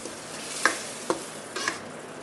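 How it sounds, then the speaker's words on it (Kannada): Hissing sizzle as boiled water, two glasses per glass of semolina, meets hot roasting semolina for mango sheera, with a few sharp stirring scrapes and bubbling spurts over a steady frying hiss. "ಈಗ ನಾನೀಗ ಕುದಿಸಿದ ನೀರನ್ನು ಹಾಕ್ತೇನೆ"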